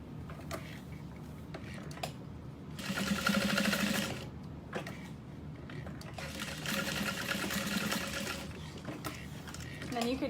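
A sewing machine stitches a small square on a tote bag. Two fast, loud bursts of rattling stitching come between quiet pauses, with faint handling noises.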